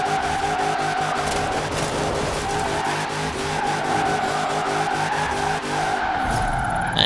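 An International Harvester on race tires in Forza Horizon 4 skidding and spinning out, a sustained loud tire squeal over a droning engine, ending in a brief lull and then a short burst.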